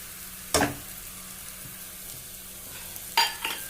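Spice powders being stirred and fried in a pan on the stove, a quiet background broken by two short scraping bursts of the spoon several seconds apart.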